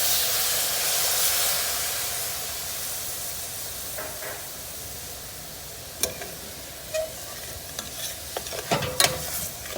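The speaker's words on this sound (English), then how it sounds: "you just want to cook off the alcohol and reduce that down just a little bit" Corn simmers with white wine in a pan while the alcohol cooks off, giving a broad steady hiss of bubbling and steam, with a few sharp clinks and stirring taps toward the end.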